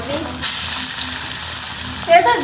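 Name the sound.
fritters frying in oil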